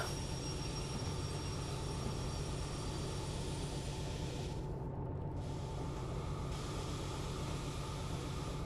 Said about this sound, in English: Oh my goodness, this is a heavy train.